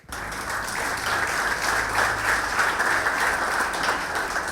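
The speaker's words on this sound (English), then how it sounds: "Round of applause for Patrick." Conference attendees applaud a speaker at a devops talk, a steady, moderately loud round of clapping that starts abruptly and keeps an even texture throughout.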